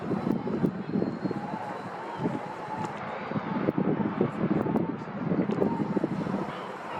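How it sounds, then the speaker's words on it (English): Strong wind in Gibraltar buffeting the microphone in a continuous low roaring rush with gusting surges, loud and close throughout. "the wind is really strong. It's moving in really fast."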